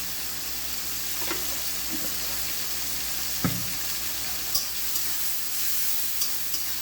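Shrimp frying with vegetables and turmeric in a pan, a steady close sizzle with a few soft stirring clunks and scrapes at intervals.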